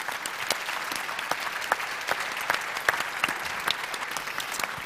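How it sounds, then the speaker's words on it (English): A panel audience gives a round of applause for a speaker, a continuous even wash of clapping at moderate loudness with scattered crisp individual claps poking through, steady from start to finish. "So please, a round of applause for Professor Steve Haake."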